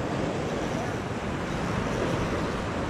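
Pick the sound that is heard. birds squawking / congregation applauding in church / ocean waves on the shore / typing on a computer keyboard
ocean waves on the shore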